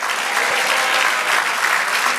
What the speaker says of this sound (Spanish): Da un aplauso eterno al Dios eterno